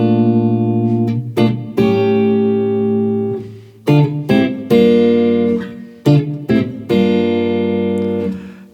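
Guitar in standard tuning strumming the opening verse chords of a song, sustained chords struck in a loose rhythm with sharp attacks, close and loud with no talking.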